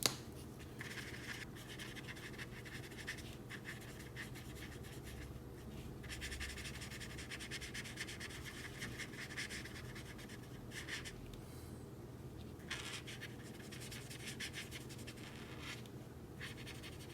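A graphite pencil colouring in the face of a drawing, a soft continuous scratchy rubbing on paper, close and faint, in steady strokes with brief pauses and no voices.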